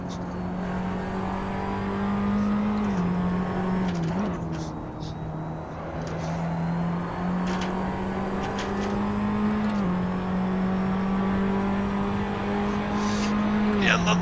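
A Formula 4 race car at the Red Bull Ring holds a steady, close, high-revving engine drone for the whole stretch, with a couple of brief dips in pitch like gear shifts or lifts.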